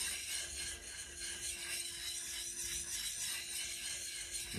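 A draw knife being sharpened in circular strokes on the 1000 grit side of a double sided diamond plate, a steady gritty rasping scrape that continues without pause at moderate volume.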